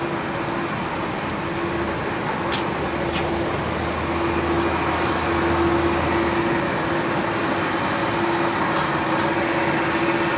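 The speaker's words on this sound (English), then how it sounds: "And the Qantas 330 is actually pushing there." Qantas A330 airliner pushing back at Brisbane Airport at night, a steady loud jet engine whine and broad roar holding throughout, with a sustained tonal hum.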